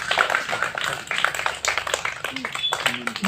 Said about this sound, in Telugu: అందరూ చప్పట్లు కొడుతూ ఉండాలి.